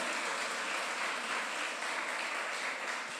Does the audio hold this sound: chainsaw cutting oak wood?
no